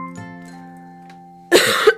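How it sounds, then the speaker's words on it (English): A single harsh cough bursts out close by near the end, after a stretch of quiet steady tones. "I'm gonna mute when I cough because it sounds gross"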